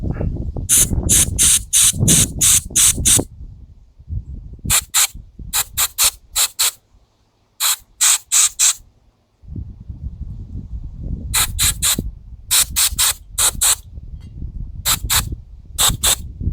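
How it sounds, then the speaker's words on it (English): Short bursts of aerosol lubricant spray into the middle of a snowblower part after its rubber O-ring is removed, a series of sharp hissing puffs in quick clusters, separated by low mechanical handling noise and pauses. "Now we'll spray up the middle of it."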